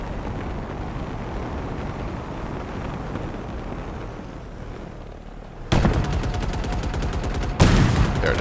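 A rocket fired in Halo Infinite, a sudden loud blast followed by a rapid rattling burst and a second sharp impact, coming after a low rumbling stretch of battle noise.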